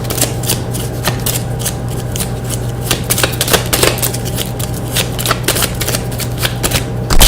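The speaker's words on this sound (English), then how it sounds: "I'm choosing to put these cards down" Playing cards are handled and laid down during a reading, a steady run of soft papery flicks and taps close by with no talking.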